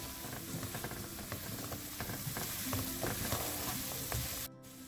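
Fried fish being stirred and sautéed in a pan for fish pickle gives a steady close sizzle, with irregular scraping and clinking from the spatula throughout and a brief drop in level near the end.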